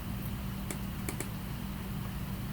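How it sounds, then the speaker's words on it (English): A few sharp key clicks from a computer keyboard's delete button, three quick presses close together over a steady low hum, near and fairly faint. "deleting them using the delete button on my keyboard"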